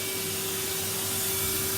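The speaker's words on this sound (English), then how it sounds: "We're done vacuuming now." A household vacuum cleaner runs steadily indoors, a loud, close, unbroken roar with a constant motor whine throughout and no voices.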